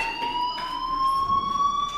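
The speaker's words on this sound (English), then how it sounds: "do you hear that fire alarm? That means you should be outside." A school fire alarm in the video game Life is Strange sounds as a steady, piercing electronic tone with faint rising pitch, ringing continuously with a light pulsing beneath it and no voices.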